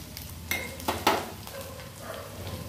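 Cashews and whole spices (cinnamon, cloves, cardamom, a dried red chilli, melon seeds) fry quietly in a pan, with a soft steady sizzle broken by a few sharp stirring scrapes and clinks close by.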